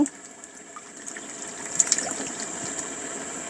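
Coconut milk poured from bottles into a pot of boiling broth for southern Thai curry sauce, giving a steady, fairly loud liquid gush and fill that runs continuously with no speech.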